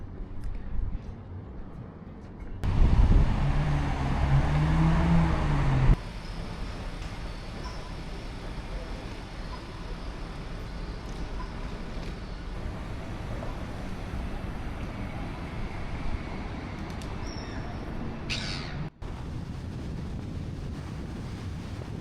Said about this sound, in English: it's just the harbour